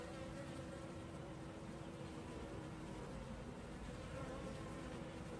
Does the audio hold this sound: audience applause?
no